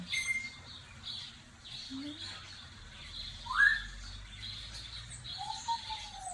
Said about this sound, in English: I actually thought the parrot would be quiet today because it's so chilly